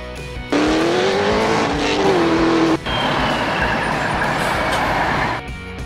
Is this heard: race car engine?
yes